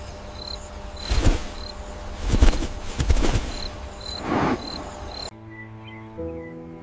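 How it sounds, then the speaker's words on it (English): Katydids and spring peepers call in steady, evenly spaced pulses across a nighttime chorus, mixed with a few louder rustling bursts, before a brief shift to quieter, thinner calls. "katydids, glowworms, and spring peepers become the background orchestra that never stops"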